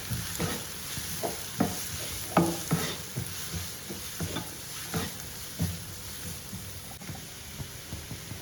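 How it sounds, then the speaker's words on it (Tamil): Green chillies and ginger garlic paste sauté in a pan with a soft, steady sizzle, while a spoon scrapes and taps against the pan at irregular intervals close by, with no speech. "இஞ்சி பூண்டு பேஸ்ட் அதையும் போட்டுக்கலாம், போட்டு நல்லா வதக்கி விடலாம்"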